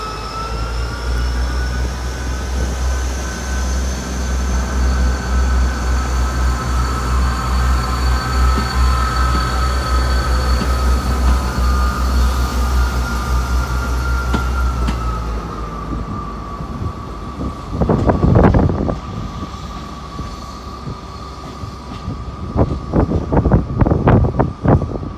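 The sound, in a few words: Castle set passenger train departing Exeter St Davids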